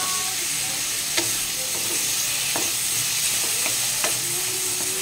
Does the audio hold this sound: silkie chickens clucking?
no